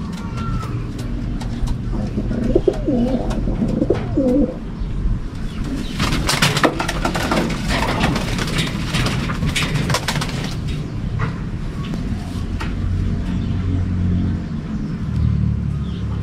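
Pigeons cooing in a loft during first-day race preparation, soft repeated coos layered over steady low rumble and background noise, with a burst of broadband clatter midway.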